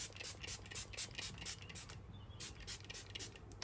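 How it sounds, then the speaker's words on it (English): A face spray for post-procedure skin care misted in repeated short hissing bursts close by, with soft rubbing between them and no talking. "So this is the spray I have to use on my face and my stomach."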